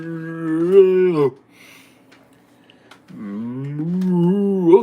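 A person imitates a cow mooing, giving two long drawn-out moos, loud and close, with a short quiet gap between them.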